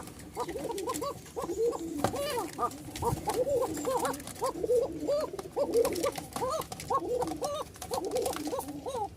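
A male Bashiraj pigeon coos repeatedly to a female, a rapid run of rolling, rising-and-falling calls close up, continuing steadily throughout, with faint talk in the background.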